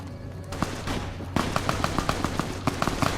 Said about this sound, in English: The guys who start shooting immediately.